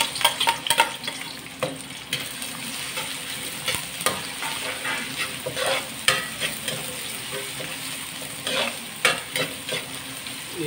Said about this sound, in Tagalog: I-golden brown natin ng konti itong bawang natin.